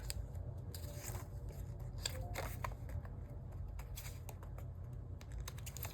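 Scissors trimming the edge of a paper planner sticker, giving a run of quick, close snipping and crisp paper rustles over a steady low background rumble, with no talking.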